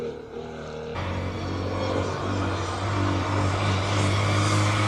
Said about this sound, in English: Glorious sound of a Lambo Huracan